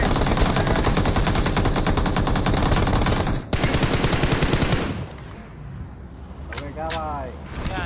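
Rapid automatic gunfire in a battle royale shooter, dense bursts of shots for several seconds, then a pause with a few scattered sounds and a rising whoosh, while a player talks over the action.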